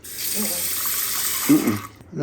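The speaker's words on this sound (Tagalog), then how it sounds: "Kaya lang alam ko may dust to ng konti eh. So mabilis lang. Mabilis na hugas lang." Tap water runs briefly over bougainvillea leaves being rinsed for a salad, a steady splashing stream that shifts in tone as the leaves are moved under it, then cuts off near the end, with a person talking.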